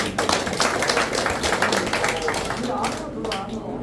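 A crowd at a Korean trade-association gathering applauds a chairman who arrives on a cane, a dense steady patter of many hands clapping at close range, with some talk mixed in.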